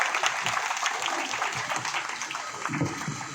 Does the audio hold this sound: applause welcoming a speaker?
yes